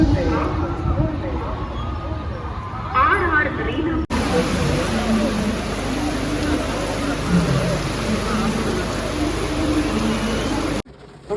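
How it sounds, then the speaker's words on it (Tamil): Heavy rain in a steady, dense hiss that continues without a break for about ten seconds, loud and close as if drumming on a car roof, with people talking under it. "சரியான மழை."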